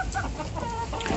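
Leghorn hens cluck steadily at a feeder while eating, a dense, continuous flock chatter that stays close and fairly loud throughout.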